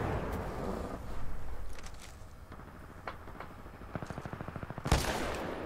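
Gunfire in the video game Titanfall 2: scattered single shots, then a fast automatic burst ending in a sharp loud crack, set against a low rumbling game backdrop.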